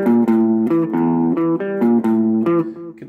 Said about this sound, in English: we're going to look at five legendary riffs that I think all guitarists should play sooner or later